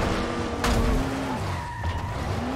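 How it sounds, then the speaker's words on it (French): Car crash and tire skid in the zombie survival video game Dying Light: a loud impact thud followed by a sustained tire squeal sliding in pitch over engine noise, close and alone without talk. "j'ai foncé suffisamment fort dans la petite bagnole pour réussir à sortir"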